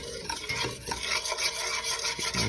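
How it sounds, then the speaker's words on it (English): Butter and flour roux cooking in a pot for clam chowder, a spoon scraping and stirring in quick uneven strokes over a soft sizzle, close and fairly quiet with no voices. "Let the butter cook with the flour a little bit."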